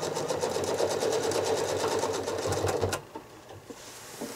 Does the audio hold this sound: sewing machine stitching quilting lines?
yes